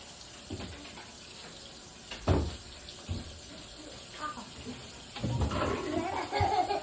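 Tap water runs and splashes in a kitchen sink while a sweet potato pie is being made, coming in short bursts at first and then a steadier, louder rinse near the end, close by.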